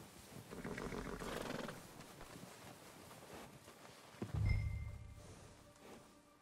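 A horse in the game Red Dead Redemption 2 whinnies loudly in the middle of the clip, with quieter hoof clops and outdoor movement around it, fairly near and with no talking.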